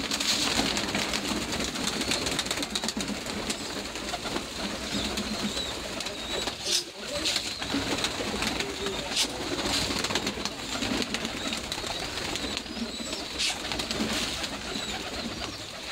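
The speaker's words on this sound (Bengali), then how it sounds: "এই যে দেখুন আমার কবুতর।" Many domestic pigeons kept as a hobby coo and flutter around their loft at dawn, a steady layered murmur of soft calls with occasional wingbeats and a faint rain-like patter throughout.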